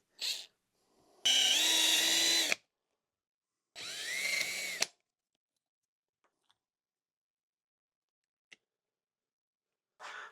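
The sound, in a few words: drilling out stripped screw heads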